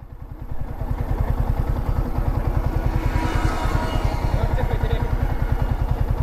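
A motorcycle engine runs steadily and close by with a rapid, even low-pitched putter throughout, sounding like riding at a constant pace; no distinct speech stands out.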